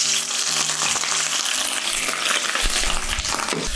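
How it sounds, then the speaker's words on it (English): Shrimp searing in a hot pan, a loud dense sizzle that holds steady and close for the whole stretch with no voices. "I'm just gonna add all the shrimp in and just let it cook for around 2 to 3 minutes"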